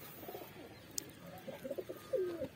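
A pigeon coos softly nearby in a loft, several low throaty burbling calls in a loose series, with a faint click partway through.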